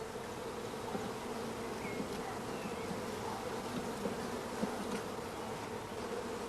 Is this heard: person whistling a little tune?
no